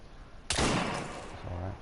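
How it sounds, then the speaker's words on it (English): A single sharp gunshot at bottles in the Assassin's Creed Syndicate video game, loud and close, followed by a short ringing decay and a low tonal hum. "I guess we have to shoot the bottles in the middle."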